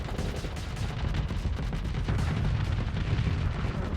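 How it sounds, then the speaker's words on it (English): Twin assault chain guns on the Eradicator roar in sustained, dense automatic fire within a video game, a loud continuous rattling barrage filling the whole stretch with no pauses. "The Eradicator time to kill with those 2 assault chain guns."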